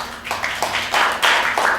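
Audience at a lounge talk breaks into applause, dense overlapping claps in uneven surges that grow louder toward the end, with no talking over them.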